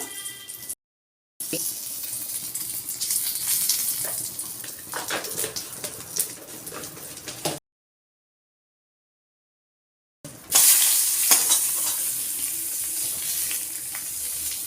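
Bay leaf and spices sizzle with prawns in a pan of hot oil for a Bengali tiger prawn malai curry, a steady close hissing broken by two silent gaps and ending louder.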